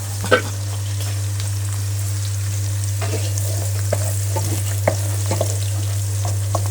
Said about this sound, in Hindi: प्याज हमारे बिल्कुल हमने ज़्यादा लाइट फ्राई किए हैं, ज़्यादा फ्राई नहीं